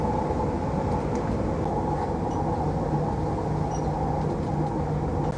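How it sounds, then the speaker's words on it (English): Steady rumbling drone of a regional train in motion along the Rhine between Koblenz and Mainz, heard from inside, continuous and fairly loud with faint rattles. "This regional train makes a gazillion stops between Koblenz"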